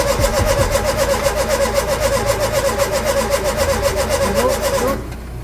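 Reconditioned Ford Capri engine cranking over with a steady rapid starter rhythm for about five seconds without catching, loud and close, then the cranking stops abruptly.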